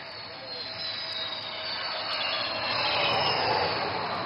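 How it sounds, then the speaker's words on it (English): A twin-engine fighter jet weighing over 38 tons lands on a highway during an air show, its engines a steady, loud, rising roar with a faint whine that builds across the moment. "this twin-engine fighter demands nothing but absolute precision while landing on this highway"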